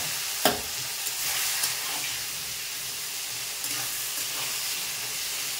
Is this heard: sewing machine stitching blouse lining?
no